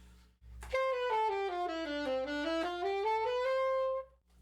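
A melodic instrument runs a major scale stepwise downward and then back up in smooth, evenly timed connected notes, clear and close with no talking.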